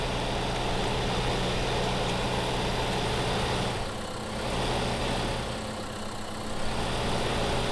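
A tractor engine in Farming Simulator 2015 drones steadily while pulling a heavy trailer load with some wheel spin, a constant mid-low rumble that eases slightly twice before returning, with no talking.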